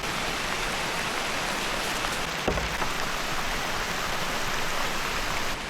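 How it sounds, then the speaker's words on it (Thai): Heavy rain pours steadily during a storm onto a bamboo-roofed shelter, a dense, continuous hiss with one brief louder patter partway through. "ตอนนี้นะครับเพื่อนๆในปีฝนตกหนักเลยนะครับผม"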